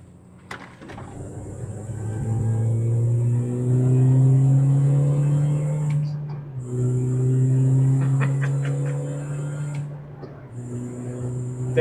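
Small engine and exhaust of a 2000s R53 Mini Cooper S while driving, a steady close drone that rises in pitch through two accelerating pulls, dipping briefly between them at a gear change, with no talking over it.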